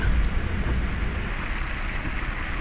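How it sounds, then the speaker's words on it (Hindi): Heavy rain pours outdoors in Madinah, a steady dense hiss of falling water with a deeper rumbling wash underneath, loud and constant from start to end. "ये देखें अभी भी बारिश हो रही है, बहुत अच्छी बारिश हो रही है।"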